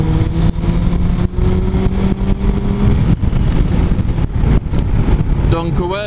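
A motorcycle speeds up to pass another vehicle on the road, its engine note climbing and revving close to the microphone. Steady road and wind roar runs underneath.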